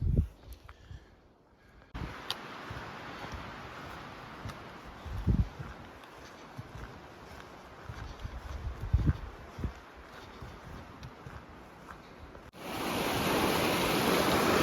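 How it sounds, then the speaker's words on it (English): Fresh cold water flows from a mountain spring beside a hiking trail, a steady broadband rush close by with occasional louder splashes and scuffs, swelling to a fuller, louder gush near the end. "Nice little creek. Not creek, this is a spring."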